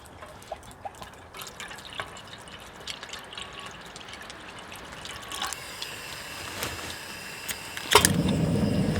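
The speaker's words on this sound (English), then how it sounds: "Go ahead and just fill this pan up with some water" Water runs and drips into a metal pan at a low level, then a louder gushing pour near the end as the pan fills.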